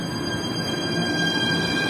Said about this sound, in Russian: А этот поезд идет в обратную сторону, то есть к нашей гостинице.